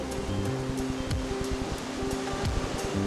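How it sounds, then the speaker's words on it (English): Ocean waves roll onto a Bahamas beach as a steady, broad wash of surf at moderate loudness, with no voices over it. "the nervous tick of the watch is replaced by the slow beat of the waves."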